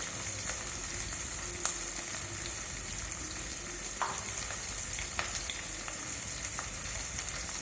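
Ginger garlic paste fries in a pan with a steady, moderately quiet sizzle, punctuated by scattered light clicks and stirring scrapes.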